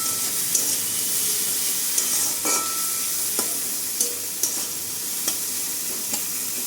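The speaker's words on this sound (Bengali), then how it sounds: "গাজর বিনসটা ভাজাভাজি করছি, তার মধ্যে ক্যাপসিকাম দিয়ে দিয়েছি" Carrot, beans and capsicum frying in a pan for homemade egg veg chow, a steady close sizzle with sharp clicks of a spatula stirring and scraping every second or so, no voices.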